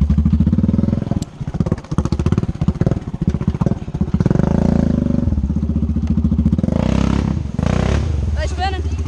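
An ATV, a 420 in two-wheel drive, revs hard with its wheels spinning through deep mud or water, the engine surging loud and close in uneven bursts while people talk over it.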